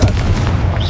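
A Confringo blasting curse explodes in the Hogwarts Legacy video game, a loud, dense boom with rumbling low-end that sustains through the whole moment without a break.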